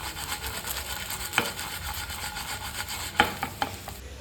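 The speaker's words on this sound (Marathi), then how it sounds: "तर तुम्ही बघू शकता की मी इथे सारखं हलवत आहे" Chilli garlic tofu shallow-fries in a pan while being stirred: a constant crackling sizzle with scraping strokes, two sharper knocks against the pan standing out, and nobody speaking.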